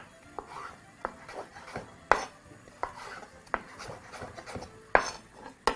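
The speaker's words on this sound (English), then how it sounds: "begin by slicing some nice thick chunks from your potato" A knife chops thick chunks from a potato on a cutting board, each cut landing as a sharp, close knock at an irregular pace, roughly eight strikes with quieter scraping between them.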